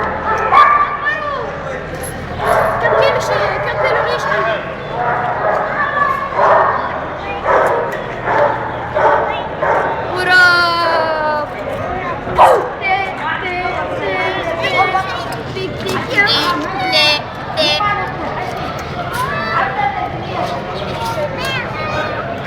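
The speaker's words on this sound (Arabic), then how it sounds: "يا وسام كيف هجم عليك الكلب" A dog barks, yips and whimpers repeatedly at close range through most of the stretch, mixed with people talking and shouting nearby at a bird market in Kuwait.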